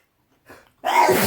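A soft intake breath, then a loud, close sneeze bursting out and trailing off, heard alone at a home cooking and burger-eating session.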